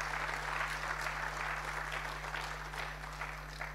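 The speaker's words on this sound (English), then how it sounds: "So let us give him a round of applause for his vision." Audience applause at a political party's manifesto launch, a steady sustained clapping from a crowd lasting the whole stretch, with a constant low electrical hum beneath.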